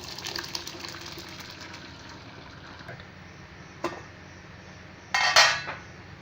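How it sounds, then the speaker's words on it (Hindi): Boiled rice water is drained through a mesh strainer while making chicken biryani: a steady wet hiss, a faint metallic tap and a short louder gush of pouring near the end, with no talk. "अब इस राइस का पानी हम एक जाली में निथार लेते हैं।"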